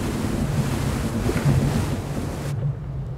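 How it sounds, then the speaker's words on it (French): Strong wind roars and buffets against the microphone outside a ship in snowy Arctic conditions, a steady rushing noise that cuts off abruptly near the end. "avec le vent qui souffle et la neige qui tombe au dehors"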